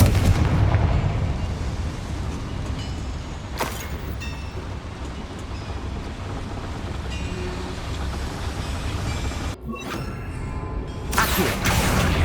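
Confringo fire spell blasts in Hogwarts Legacy inside a small mine, with booming explosive hits and crackling impacts over a rumbling background.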